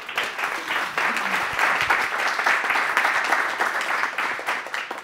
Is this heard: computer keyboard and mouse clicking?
no